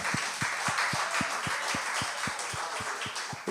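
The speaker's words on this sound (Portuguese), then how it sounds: "levante, vamos aplaudir ao Senhor" A church congregation clapping together in praise, steady rhythmic unison claps at roughly four per second over a bright wash of crowd noise and music.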